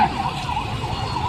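Ambulance siren wailing on a street in Tamil Nadu, a steady rising-and-falling tone over passing traffic noise, moderately close, with no talk.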